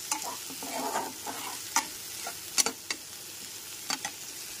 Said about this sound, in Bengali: ভাজা মশলাটা ভালো করে আরেকবার টমেটো পেস্টের সাথে কষিয়ে নিতে হবে।